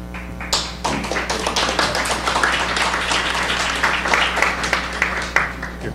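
An audience applauds a vice provost taking the podium at a university event, with dense, steady clapping from many hands filling the room at a fairly close, even level.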